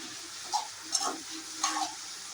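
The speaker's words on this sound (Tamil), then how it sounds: "நல்லா வெங்காயம் வதங்கட்டும்" Chopped onions, along with green chillies, curry leaves and coriander, sauté in a pan for Chennai-style vadakari, making a soft, steady sizzle broken by three brief scrapes of stirring.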